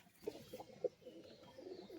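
Pigeons coo softly inside a loft, a few low murmuring calls rising and fading over quiet background, faint and somewhat distant.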